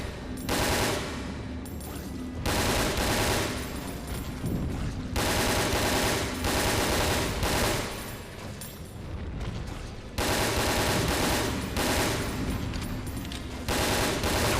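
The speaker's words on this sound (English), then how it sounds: "just gotta keep shooting at the head." Rapid bursts of gunfire in the video game Resident Evil Dead Aim, loud and dense volleys separated by short pauses, repeating throughout with no voices.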